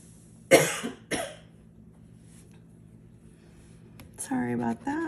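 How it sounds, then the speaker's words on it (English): Two sharp coughs close up, a pause, then a person starts talking. "still have a cough."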